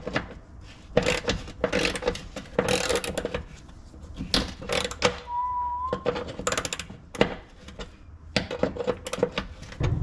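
A hand ratchet working a stuck bolt on a barn-find car restoration: rapid, irregular clicking strokes close by, repeated throughout with brief pauses and a short squeak partway through.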